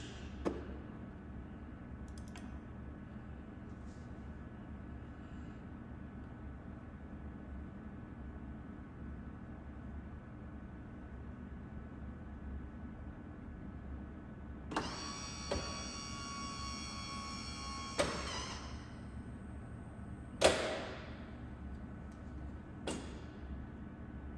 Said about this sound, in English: at this stage, I'm gonna try selecting the gears